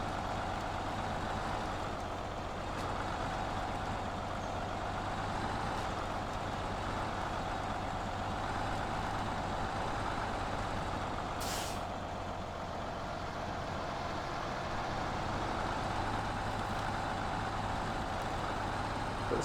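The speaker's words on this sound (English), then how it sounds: "Oh, I'm beating my truck up." A truck engine drones steadily as it rock-crawls off-road while towing a trailer, with a short hiss partway through. The rumble stays constant and close, with no talking.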